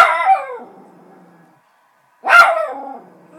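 A Toy Fox Terrier lets out two loud, close barking howls separated by a short silence, each call trailing off.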